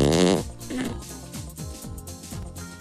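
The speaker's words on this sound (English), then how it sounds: "This final fart is called the cloud" A loud, buzzy fart opens the clip and is followed by a rhythmic series of lower sputtering pulses.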